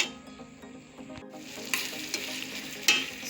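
Spaghetti stir-fried with vegetables for spaghetti jollof sizzles in a pan while being stirred, with scraping pushes and brief clatters over a steady frying hiss that grows louder partway through.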